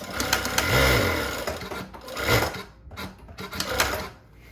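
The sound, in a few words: JUKI DDL-8000A industrial sewing machine sewing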